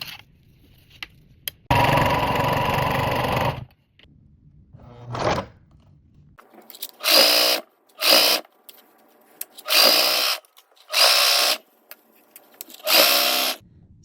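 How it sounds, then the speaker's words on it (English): A sewing machine stitches elastic onto organza fabric in loud, close bursts of whirring motor and needle, starting with one long run and then several shorter spurts separated by quiet pauses. "I'm just gonna stitch them together and pull as I go on the elastic"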